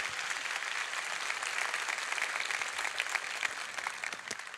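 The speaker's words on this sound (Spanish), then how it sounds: "Por favor, esos aplausos." An audience at a university conference gives sustained applause, a dense and fairly even patter of many hands heard from a moderate distance without speech.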